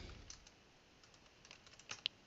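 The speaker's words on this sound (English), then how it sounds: "You type in what was needed." Computer keyboard typing while identity management details are entered, a short run of faint, scattered keystrokes ending in one sharper click, quiet and without talk.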